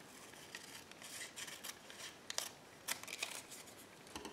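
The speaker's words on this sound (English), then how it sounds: "Let's cut this one in half." Scissors cutting a sheet of paper in half, a string of faint, close snipping and crisp slicing sounds with soft paper rustle, no talk.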